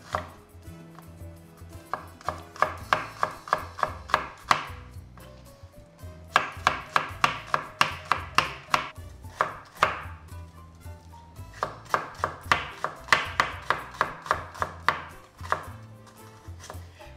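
Onions being sliced thin with a knife on a board for imam bayildi, a quick steady run of crisp chops in bursts separated by short pauses, close and clear with no talking.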